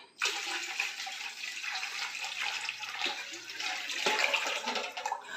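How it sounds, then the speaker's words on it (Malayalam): Water pours in a steady, continuous rush for several seconds into a lemon drink, a close splashing stream with no voices. "വെള്ളം ആവശ്യത്തിന് ചേർത്ത് കൊടുക്കാം"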